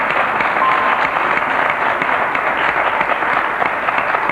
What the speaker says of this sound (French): Que les applaudissements montent.